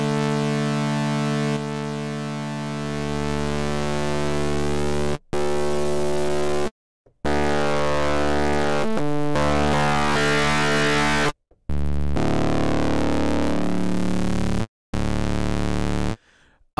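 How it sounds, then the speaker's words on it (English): WA Production's Satyrus saturation plugin overdrives a synth wave into a loud, buzzy tone rich in harmonics, held in sustained notes that are broken by several abrupt silent gaps. "The original basic saturation, overdriving the input signal."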